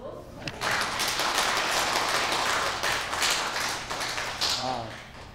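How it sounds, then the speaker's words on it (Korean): Congregation applauding in welcome for a returning monastic brother during a Sunday Eucharist service in a church, dense steady clapping lasting several seconds, with a voice briefly heard at the end. "환영의 박수"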